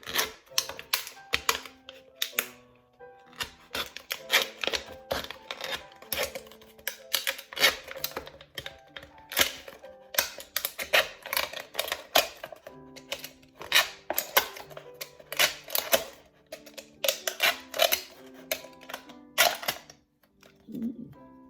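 Scissors or a blade cutting the thin metal top of a can for a craft flower: a long run of close, crisp clicking snips and metallic crunches in irregular bursts, with brief pauses between cuts.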